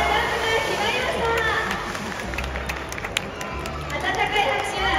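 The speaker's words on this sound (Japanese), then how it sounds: "温かい拍手ありがとうございます" Audience applause at a public orca training show after the orca Earth's jump, a dense crowd wash of clapping blended with chatter and an announcer's voice over it.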